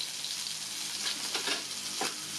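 Tempering for dal sizzles in a hot pan, a steady, dense crackle of frying at moderate volume with small bursts of spitting and no voices.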